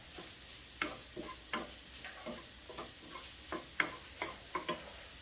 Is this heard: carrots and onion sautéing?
yes